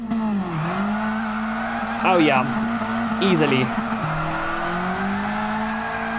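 A car in Gran Turismo doing a burnout: a loud, sustained engine tone that dips and rises, with someone talking briefly over it in two short bursts.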